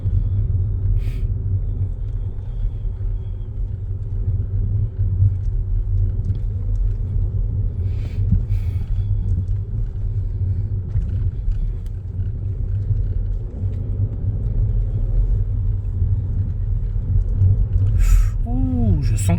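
A car rolls along during a driving lesson, its engine and road noise a steady low rumble from inside the cabin throughout. Voices talk over it.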